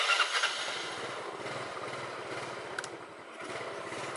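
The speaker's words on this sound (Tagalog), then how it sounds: "So magmumotor tayo." A motorcycle engine runs steadily at close range, a continuous low rumble with a broad noisy hiss over it and no talk.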